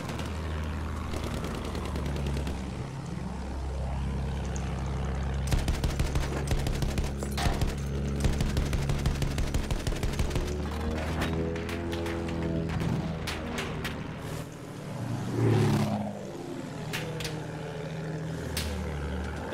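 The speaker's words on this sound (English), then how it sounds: "Damn, they're shooting back now when I'm streaming." Gunfire in the Battlefield 1 video game, bursts of rapid automatic shots and scattered single cracks over a rumbling engine and droning battle ambience, intensifying mid-clip before easing.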